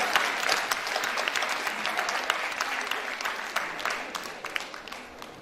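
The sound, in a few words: audience applause at a school science day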